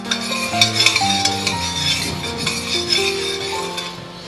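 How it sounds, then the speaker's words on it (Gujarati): A spoon stirring sugar and saffron into milk heating in a pot, making repeated close scraping strokes with light metallic clinks and a faint sizzle underneath, with no talk. "હવે ચમચી વડે કેસર અને ખાંડને બસ થોડું એવું મિક્સ કરી લઈશું અને દૂધને ઉકળવા માટે રાખશું"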